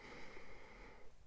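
A short nasal sniff at a new leather camera case for a Fuji X100F, a brief close breathy inhale with no talk.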